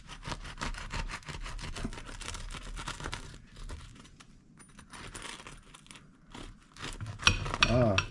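A knife cuts through a hot loaf of homemade bread made from pizza dough in a Ninja Speedi, giving steady close crunchy sawing and rubbing strokes, with a brief clatter near the end.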